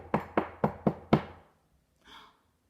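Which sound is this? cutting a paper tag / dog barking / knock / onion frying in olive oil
knock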